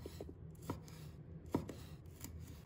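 Small chili peppers sliced into rings with a knife, a few crisp separate chops on a cutting board, close and fairly quiet with short pauses between strokes.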